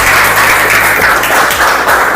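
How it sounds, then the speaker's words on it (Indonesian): Loud, dense applause from a group at a school physical education session, a constant rush of clapping filling the whole moment with slight swells and no talk over it. "Kita tepuk tangan yang meriah"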